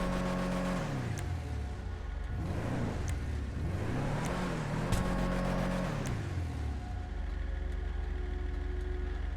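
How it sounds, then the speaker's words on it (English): A Karin Everon pickup in GTA Online, fitted with dual exhaust, revs repeatedly, its engine note rising and falling in several loud surges over a steady idle. "let's go ahead and rev it up here so we can see what's going on"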